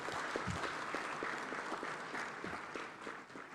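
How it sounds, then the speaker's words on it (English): Faint, distant applause for a spiritual leader in a parliamentary gathering in Ghana, a continuous wash of clapping with a few sharper individual claps standing out, heard quietly and without talk. "Let's give our Papa another round of applause."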